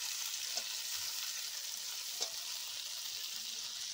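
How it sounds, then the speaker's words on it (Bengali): Spices added to fried potatoes sizzling in oil, a steady close hiss of frying with a couple of soft taps from the spoon and no talk. "আলুগুলো ভাজা হয়ে গেল, এখন এর মধ্যে দিয়ে দিচ্ছি মশলা।"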